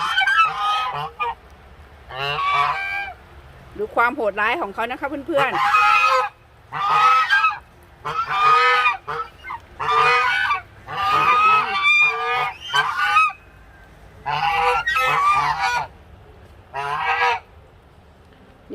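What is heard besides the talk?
geese honking after being let out of their pen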